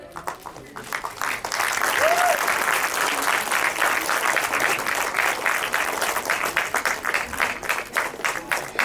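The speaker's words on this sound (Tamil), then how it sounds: "கைத்தட்டல் கொடுக்கலாமே," A crowd at a 'Tourist Family' fan gathering gives continuous, full applause that swells after a brief start and carries on steadily, with scattered voices over the clapping.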